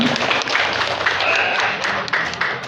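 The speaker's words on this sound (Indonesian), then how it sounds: "Tepuk tangan dulu buat Bapak Ibu." A crowd at a social aid handover event applauds with dense, continuous clapping, steady and fairly loud throughout, with scattered sharper claps standing out.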